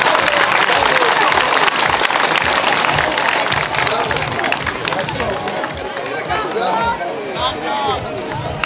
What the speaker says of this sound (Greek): Χειροκρότημα στους νικητές